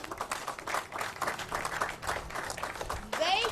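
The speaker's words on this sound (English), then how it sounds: "Let's give them a round of applause" Applause at a Milwaukee County event announcing 2021 Juneteenth festivities, a moderate crowd clapping with voices mixed in, swelling louder near the end.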